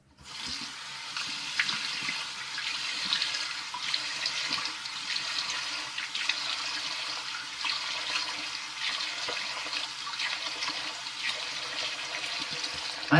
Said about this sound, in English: Now I'm going to do a cold water rinse.